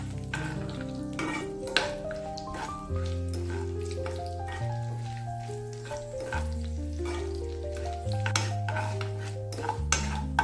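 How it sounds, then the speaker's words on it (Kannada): Mustard seeds, urad dal, curry leaves and dried chilies fry in about two tablespoons of oil, a light crackle and sizzle with small popping ticks and pan clinks, heard under steady background music. "2 ಸಾಸಿವೆ, ಉದ್ದಿನಬೇಳೆ, ಕರಿಬೇವು, 2 ಮೆಣಸು ಇಷ್ಟನ್ನು ಹಾಕ್ಕೊಂಡು ಫ್ರೈ ಮಾಡ್ಕೊಳ್ಬೇಕು"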